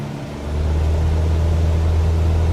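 Piston aircraft engine in Microsoft Flight Simulator 2024 revving up toward 2,300 RPM, a steady loud low drone that swells after the first half second and holds, with no talk.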